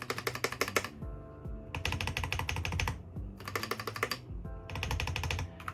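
Rapid typing on a Weikav WK75 mechanical keyboard in bursts, with crisp clacky keystrokes and short pauses between runs, close up and alone.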